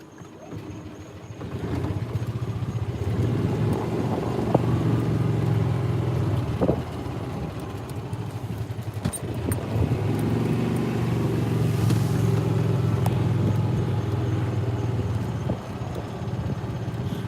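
A golf cart rolls along a community road on the way to watch a sunset in The Villages, Florida, with a steady, continuous motor and road rumble throughout, close and unbroken, and no talking.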